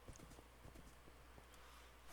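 Hooves of horses in a video game clop in a loose, uneven rhythm, moderately near, over a steady low background hum.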